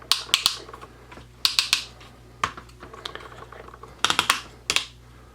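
Plastic Transformers War for Cybertron Siege Jetfire toy arm being folded and clicked into place, a series of close, crisp plastic clicks and snaps in uneven clusters against a quiet background.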